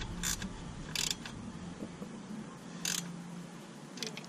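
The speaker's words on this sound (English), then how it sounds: "Get a ratchet one unless you want to do it this way" A ratchet turns a 10 mm bolt while a fender eliminator kit goes onto a GSXR 750 motorcycle, making short clicking ratchet bursts at irregular intervals, close but fairly quiet, with no voices.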